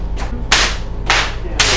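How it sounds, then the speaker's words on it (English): Several whip cracks at an indoor show, one faint snap followed by three loud, sharp cracks spaced about half a second apart over a steady low hum. "That's the sound of a whip cracking."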